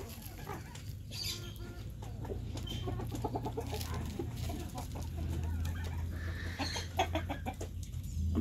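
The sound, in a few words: chickens clucking in a henhouse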